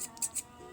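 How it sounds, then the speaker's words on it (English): Two quick, crisp snips of scissors cutting fabric while sewing clothes, close and fairly quiet, over a soft background hiss. "this fabric's a bit difficult to cut through"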